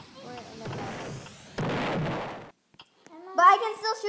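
Gunfire in a Roblox game, with bursts of rapid digital shots and booms in the first half, then a gap and a voice talking over the game sounds.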